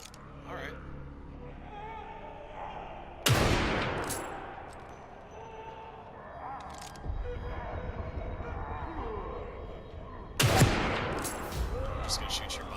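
Gunfire in The Evil Within 2 played in first person, with two loud, sharp blasts and a reverberant tail after each, set against tense in-game ambience and low rumbling.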